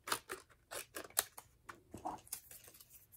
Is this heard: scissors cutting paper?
yes